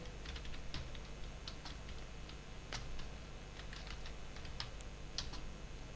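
Someone types on a computer keyboard in a steady stream of light clicks, close but soft, over a faint constant background hiss, with no talking.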